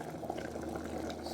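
Coconut oil boiling hard in a cooker, a dense steady bubbling and sputtering with frequent splashes, close and continuous with no talk.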